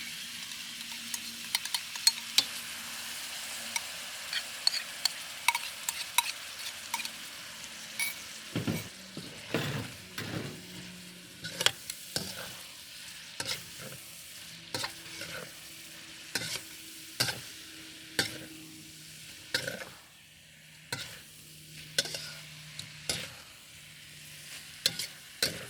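Mongolian beef noodles stir-fry in sauce in a hot pan, with a steady sizzle under repeated scraping and clacking of a utensil in an irregular rhythm, close and clear.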